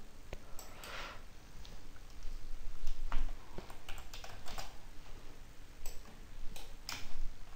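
Sharp plastic clicks from a computer mouse and keyboard while loads are entered in structural analysis software, coming in scattered single taps and quick pairs at close range over a low steady hiss, with no voices.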